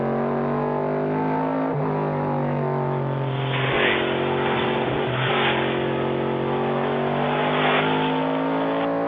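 A 1971 AMC Javelin race car engine on a racetrack, loud and close, holding a steady high-revving roar with brief dips and shifts in pitch as it runs on.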